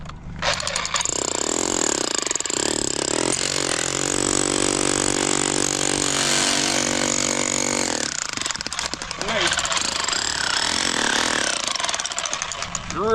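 A powered chisel hammers picture stone rock in a quarry, a loud, continuous rattling drone with a steady pulsing tone through the middle, easing and resuming near the end, with voices faintly present.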